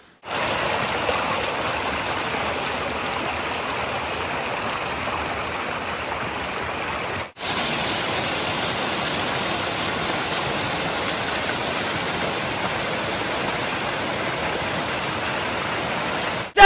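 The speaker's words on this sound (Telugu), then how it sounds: "మా ఊరు దగ్గర ఉండే మేము ఇన్ని రోజులు చూడని సీక్రెట్ జలపాతం ఇది" Near the Nalla Rayiguda waterfall, a broad, continuous roar of rushing water stays loud and unchanging throughout, broken only by a momentary dropout near seven seconds.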